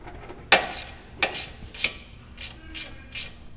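Ratchet wrench loosening a 12 mm nut on a brake line bracket of an 08/09 Lancer, a sharp first crack followed by several rhythmic clicking bursts, close and clear.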